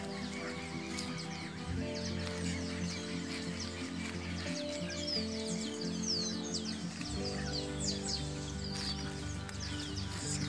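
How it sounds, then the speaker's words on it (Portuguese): Many small birds chirp and sing by the Piracicaba River at Coronel Fabriciano, Minas Gerais. Dense overlapping calls sit over a steady low hum, continuous and moderately loud throughout. "Tem muito passarinho cantando."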